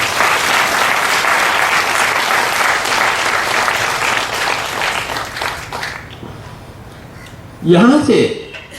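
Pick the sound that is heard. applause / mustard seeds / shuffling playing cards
applause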